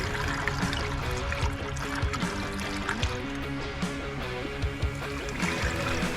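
Distilled water pours steadily into the radiator of an 87-92 Ford, a continuous close trickle and splash with a tonal hum running underneath.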